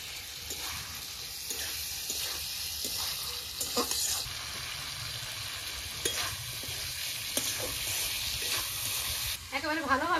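Eggplant, potato, vegetable stems and tomato stir-fried with spices, a continuous close sizzle broken by regular scrapes and clacks of the spatula against the pan, and a short watery slosh at the very end.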